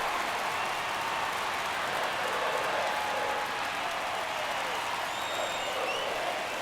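A home crowd at a baseball game in MLB The Show 24 gives a steady, dense roar with applause that holds without pause throughout.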